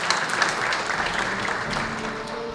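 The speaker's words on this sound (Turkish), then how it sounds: "Kendisini alkışlarınızla sahneye davet ediyorum." Dense, continuous audience applause fills a hall at a Fenerbahçe awards ceremony as volleyball player Emre Batur's mother is invited to the stage, a steady wash of many hands, loud and even throughout.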